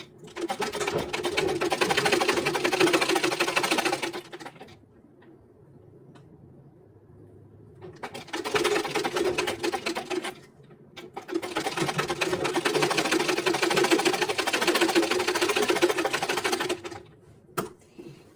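A sewing machine stitches a blouse seam in three close, loud bursts of rapid mechanical whirring, separated by short quiet pauses as the fabric is adjusted, with a brief click near the end.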